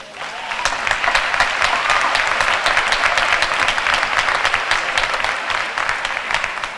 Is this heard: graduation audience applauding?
yes